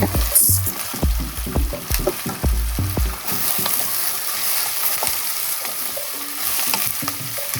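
Chopped celery, leek and carrots sizzle in olive oil in a pan for lentil soup, a steady close frying hiss broken by the thumps and scrapes of stirring, loudest in the first few seconds.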